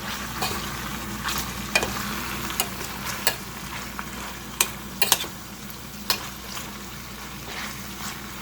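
Spoon stirring sambal ingredients for Malaysian nasi lemak in a pan, a steady low sizzle under irregular scrapes and taps spaced every second or so, close and moderately quiet.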